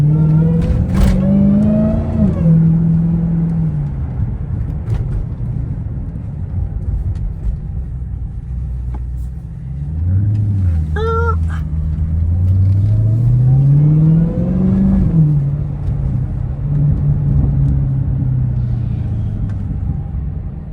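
2023 Dodge Hellcat Jailbreak Redeye engine rumbling on a night drive, with revs swelling and easing in several surges and a faint supercharger whine riding on top, close and continuous.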